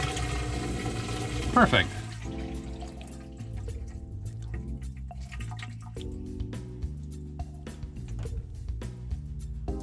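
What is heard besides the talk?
water draining from motorhome plumbing during winterizing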